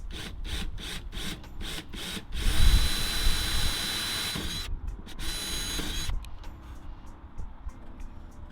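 A power drill bores holes through jet ski fiberglass backed by a piece of wood, the whine coming in short repeated bursts, then a longer sustained run, with scraping and handling noise between passes.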